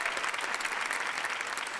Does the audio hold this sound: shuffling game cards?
no